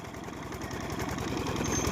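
A fodder chopping machine cutting green fodder runs with a steady mechanical engine drone and a rapid chopping rhythm, continuous, close by and gradually growing a little louder.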